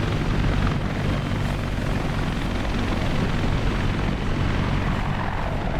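Simulated CH-53 heavy helicopter in a flight combat game, a steady loud broadband rotor and turbine roar held evenly throughout with no pauses.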